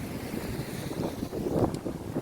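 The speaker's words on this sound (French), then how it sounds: "Bah forcément, regarde, vu le vent qu'il y a" Strong wind buffets the microphone at a rough seaside beach at Saline-les-Bains, Réunion, with the sea running high; a steady gusty roar with louder bursts and no talk.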